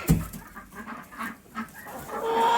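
Backyard laying hens, including olive-egg layers, give soft intermittent clucks and short calls at close range, with a rising rustle of background noise toward the end.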